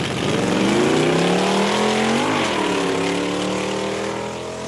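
Big-block drag racing car at a 1994 drag strip, a loud, sustained engine roar with pitch sweeping up and dipping as it runs, steady and close throughout.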